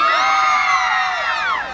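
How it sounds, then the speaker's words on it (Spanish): Crowd of girls screaming together at a banda show, a loud sustained high-pitched shriek that holds steady and then tails off as voices drop away. "un grito de las chicas para el escándalo"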